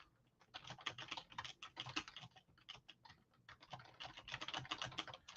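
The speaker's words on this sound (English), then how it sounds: "you hear me typing furiously" Rapid, furious typing on a computer keyboard fills the stretch with dense, uneven bursts of clicking keystrokes, close to the mic, with short pauses between flurries.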